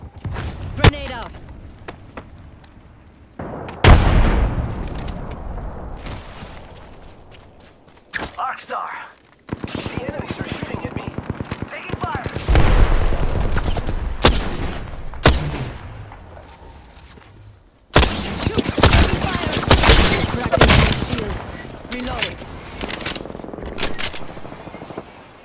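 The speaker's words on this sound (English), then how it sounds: "Throwing arc star. Arc star out. Frag out. Thermite grenade out. Grenade out." Grenades and frag explosions mixed with bursts of automatic gunfire in a sci-fi shooter video game, loud sharp blasts and rapid firing in irregular clusters with a voice calling out over the action.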